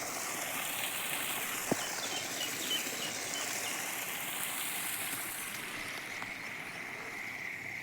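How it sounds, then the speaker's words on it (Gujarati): Rainwater runs off a road through a drain into a groundnut field, making a steady, even rushing wash of water that continues throughout. "આપણે અહીં નાળો મેલેલ છે, જેથી કરીને આપણે રોડનું પાણી ખેતરમાં આવી જાય"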